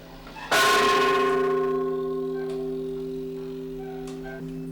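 A church bell at a Spanish colonial cathedral in Vigan, Philippines, strikes once with a loud, bright clang, then hums and slowly fades, with fainter taps following.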